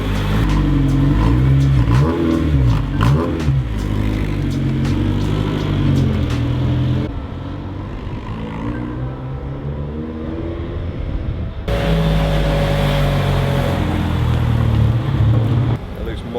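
A Honda Civic EP3 drives on a test drive, its engine revving and rising in pitch through accelerations. One quieter cruising stretch falls between louder pulls, with voices talking over the engine.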